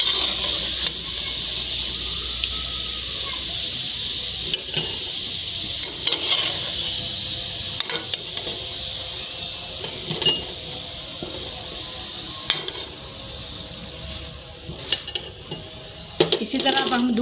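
Mutton mince koftas fry in hot oil with a constant hiss and sizzle, while utensils clink and stir now and then in a close kitchen.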